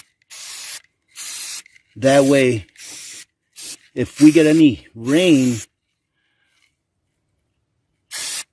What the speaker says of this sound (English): I have a can of Rust-Oleum paint. It's just primer. But what I do is I go ahead and I spray the outside part of it.